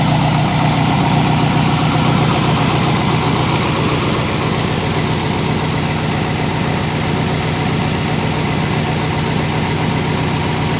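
An LS V8 swapped into a Porsche 944 idles steadily, a loud continuous low rumble that holds even throughout with no revving and no talk.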